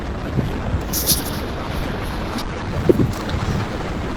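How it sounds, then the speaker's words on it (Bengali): Steady wind roars across the microphone as a Suzuki Gixxer SF motorbike rides over an empty flyover on Konabari Road, Gazipur. The broadband rush is constant, with a few brief gusts and buffets. "তো অনেক বাতাস ফ্লাইওভার উপরে"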